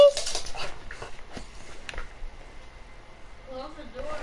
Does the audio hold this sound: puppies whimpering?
yes